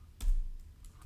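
Computer keyboard keys being typed on, a short burst of soft clicks with a stronger tap early on, close and quiet with no voices.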